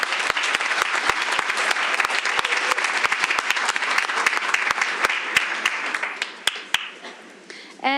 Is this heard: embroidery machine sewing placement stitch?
no